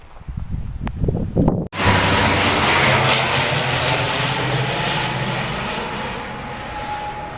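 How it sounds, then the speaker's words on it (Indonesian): An airplane passes loud and close overhead above a river estuary on a windy day, a steady broad engine roar that holds from just under two seconds to the end after a few seconds of gusty wind and handling noise. "Jadi seringkali pesawat mondar-mandir."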